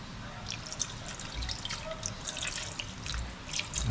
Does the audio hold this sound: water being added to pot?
yes